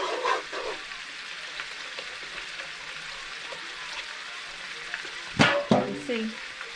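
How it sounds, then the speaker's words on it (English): Spaghetti and meatball sauce is stirred in a pot with a low, continuous bubbling sizzle and a couple of louder stirring scrapes near the end. "I'm just going to mix this up."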